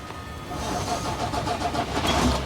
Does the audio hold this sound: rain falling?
no